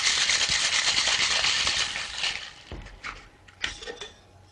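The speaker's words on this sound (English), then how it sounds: "we're going to add it to our mixer, and we're going to shake" A cocktail shaker rattled hard with ice for about two seconds, a bright, rapid metallic-and-ice clatter up close, then a few slower knocks and clinks as the shaking stops.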